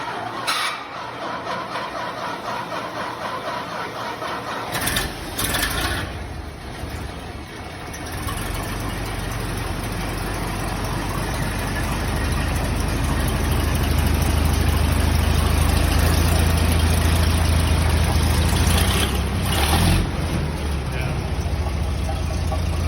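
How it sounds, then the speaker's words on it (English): Restored 1967 fire engine's motor running, a loud, heavy low rumble that builds and steadies into a sustained roar, with someone talking over the opening seconds. "we were able to finally hear the motor running"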